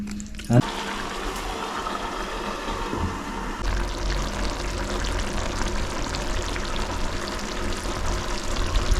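Water pours into chicken curry cooking in a pan and mixes with a soft, steady sizzle. A brief clatter comes near the start, then the frying hiss goes on at moderate loudness with no talking.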